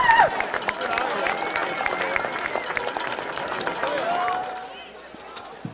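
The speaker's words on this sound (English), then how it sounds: "Please join in a round of applause to thank Coach Jim Britt" A high school football stadium crowd applauds during a halftime tribute to a coach, a broad distant wash of clapping and cheering with a voice over it, fading toward the end.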